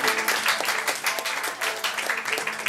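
An audience at a third-anniversary evening event claps for someone introduced on stage: a dense, steady wash of many hands clapping together, loud and continuous throughout.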